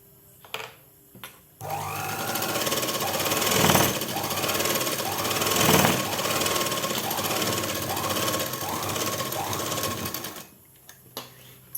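A tailoring sewing machine stitches two pieces of cloth together in one long, continuous, loud run of rapid mechanical chatter lasting several seconds, with small clicks of handling before and after.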